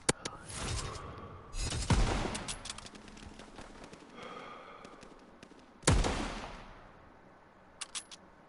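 Gunfire from BAR rifles in a WWII shooter game tournament match, with sharp loud bursts, a dense volley near the middle and scattered fainter shots and mechanical clicks between.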